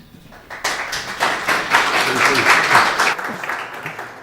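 An audience at an AI summer school claps to welcome a speaker, starting after a short quiet moment and swelling into steady, full applause from many hands that tapers slightly toward the end.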